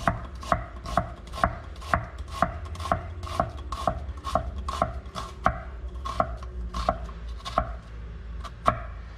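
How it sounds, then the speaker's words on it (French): Knife tip chopping an onion on a cutting board, a steady run of crisp, close taps at a quick even rhythm, heard alone with no talk. "En n'utilisant que le bout de mon couteau sans aller jusqu'à la racine de l'oignon, ça permet de tout couper et que tout reste accroché."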